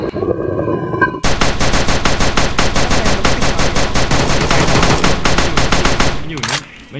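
Rapid automatic gunfire in a VRChat prison escape game starts abruptly after a second of murmur and rattles on loud and continuous for about five seconds before cutting off into quieter game sounds.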